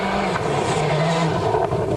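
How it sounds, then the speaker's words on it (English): Francois Delacour's number 9 Peugeot rally car driving a World Rally Championship stage in New Zealand in 2000, its engine droning loud and close with a sustained, slightly wavering pitch and no talk over it. "the Peugeot on the move was number 9, Francois Delacour's."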